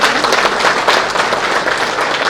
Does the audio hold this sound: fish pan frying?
no